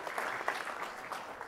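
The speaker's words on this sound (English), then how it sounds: "Big round of applause." Steady applause from an audience at a State of the City 2024 civic event, a dense wash of clapping lasting a moment and holding at an even, moderately loud level without any talk over it.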